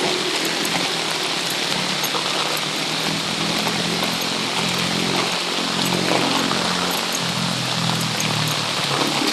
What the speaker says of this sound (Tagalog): Kasama ko talaga yung ulan